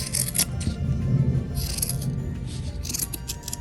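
Scissors trim paper for a handmade DIY gift decoration, giving close, repeated crisp snips and rustling paper at an uneven pace with no talking.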